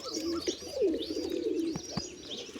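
A captured pigeon belonging to someone else gives soft, throaty coos, close and moderately quiet, with faint chirping from other birds in the background.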